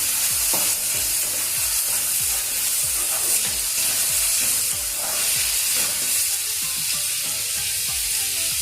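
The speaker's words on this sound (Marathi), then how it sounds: "त्याच्यामध्ये हे टोमॅटो टाकूयात। मिक्स करून घेऊयात।" Tomatoes are stirred into a sizzling dal tadka tempering in a pan. A loud, steady frying hiss runs throughout, with repeated scraping stirs cutting through it at a fairly regular pace. No one speaks.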